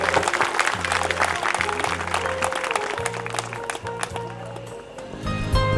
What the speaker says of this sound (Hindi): जोरदार तालियों से इनका अभिवादन किया जाए।